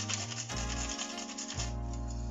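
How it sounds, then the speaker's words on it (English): Whole nutmeg grated over carrot cake batter made with coconut flour and coconut sugar, a steady close rasping scrape running continuously over a low background hum, no talk. "1 nutmeg, but I'm going to just grate a little bit of it."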